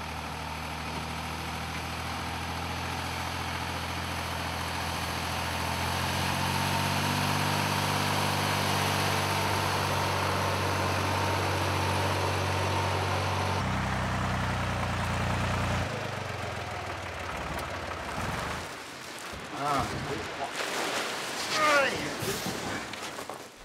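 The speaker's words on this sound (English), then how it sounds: "As its neighbour is going off for a short trip in a tractor" A tractor engine drives along a sandy turtle nesting beach beside a lagoon, a steady droning motor with tonal hum that stays fairly loud, then shifts and breaks into rougher, uneven bursts near the end.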